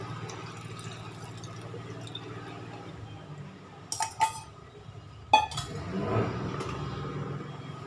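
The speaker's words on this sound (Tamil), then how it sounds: "இப்போ இந்த சேமியாவோடையே சேர்த்து கரைச்சி வச்சிருக்கிற வெல்லத்தை வடிகட்டிக்கலாம்" Dissolved jaggery syrup is strained into vermicelli in a cooking pot: a few sharp metal clinks of the strainer against the pot, then a soft, short pour of liquid over a low kitchen hum.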